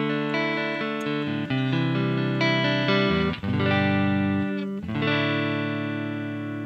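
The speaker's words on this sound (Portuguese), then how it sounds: "esse aqui é o timbre do CSS limpão" An electric guitar with a clean tone through a Tone Ink CSS pedal plays sustained chords and single notes, bright and ringing, with a brief pause and re-strike midway, no talking.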